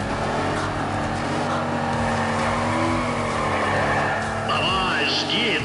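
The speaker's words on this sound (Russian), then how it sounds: "Кэрол уже разогревает покрышки своего мустанга." A Ford Mustang in Need for Speed ProStreet does a drag-race burnout to warm its tires, a loud, continuous engine roar at high revs mixed with screeching tire squeal throughout.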